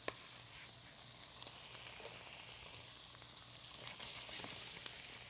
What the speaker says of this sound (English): Got a couple of tablespoons of butter that I'm going to put in the rice pan. I'm going to add my onions.